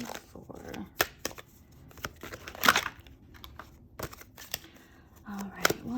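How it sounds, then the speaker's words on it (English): Someone shuffles tarot cards by hand in an irregular series of close, crisp riffles, slaps and papery flutters, with a few quiet bumps and handling noises between them. "one more shuffle and I will pull from the top"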